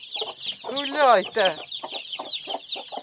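Young chickens peep in high, rapid chirps throughout, with a few lower clucks and a brief spoken word mixed in.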